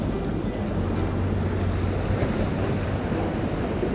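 High sea waves rolling onto a Chiba shore during April bank fishing, a loud continuous roar of surf close by, with no talking.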